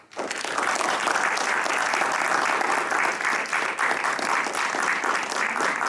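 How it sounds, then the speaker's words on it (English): Sustained audience applause at the close of a documentary panel discussion, loud and even, with dense overlapping claps from a sizable crowd that continue steadily for several seconds after a sudden start. "let's get one more round of applause"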